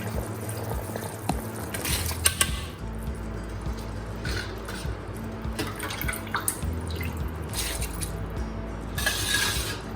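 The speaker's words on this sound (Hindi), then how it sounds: "पानी को बॉईल आ गया है। अब हम इस स्टेज पे शामिल करेंगे राइस।" Rice is added to a pot of boiling water for chana pulao, giving a continuous bubbling and splashing sound with intermittent louder pours and trickles close by.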